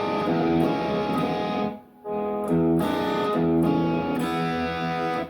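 A slow blues rock guitar riff, played by an electric guitar with an overdriven, distorted tone, with sustained chords and notes that fill the clip. There is one brief drop near the middle, then the playing resumes loudly. No one speaks.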